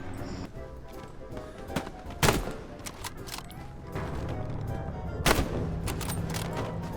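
Gunfire in the World War II shooter Hell Let Loose: scattered rifle and machine-gun shots at a distance, with a few louder close cracks and a low rumble of battle underneath.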